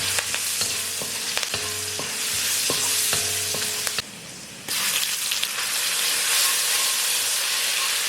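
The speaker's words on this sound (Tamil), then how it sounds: "இடித்த பூண்டு மிளகு ஒரு டேபிள் ஸ்பூன் இஞ்சி பேஸ்ட் இந்த எல்லாத்தையும் சேர்த்து நல்லா வதக்கிக்கோங்க" Crushed garlic, pepper and ginger paste sizzle and fry steadily in a hot pan for crab masala, with intermittent stirring scrapes and clinks from a utensil, a brief quieter gap midway, then continued frying close up with no talk.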